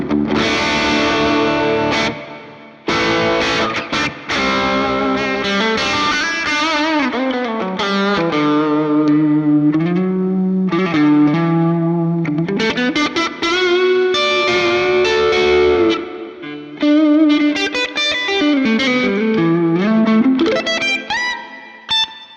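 Electric guitar played through a Strymon Cloudburst ambient reverb pedal set to long decay, sustained chords and melodic lines swelling into a lush, washy tail, loud and continuous with brief dips, no talking.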